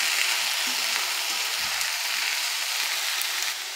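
Washed green beans tipped into a pan of sizzling fried chillies give a steady, close frying hiss with a brief low thump partway through, and no one talks.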